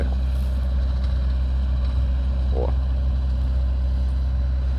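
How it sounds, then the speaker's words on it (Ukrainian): A tractor engine runs in an orchard, giving a steady, loud, low drone that holds evenly throughout, with one brief higher chirp partway through. "пішов за трактором"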